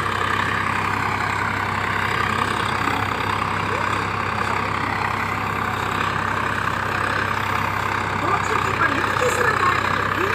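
A 2021 Swaraj 855 FE 55 hp tractor engine idles steadily and close by, a continuous low rumble that holds an even level the whole time with no speech over it.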